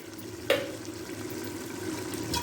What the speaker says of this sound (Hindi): ये घी देसी घी भी ऐड करते हैं